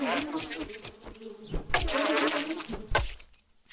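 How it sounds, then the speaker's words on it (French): Buzzing bees swarm in the survival video game 7 Days to Die, a close, wavering insect drone that rises and falls over several seconds with soft thumps underneath, fading out near the end. "J'oublie tout le temps qu'il y a ces abeilles."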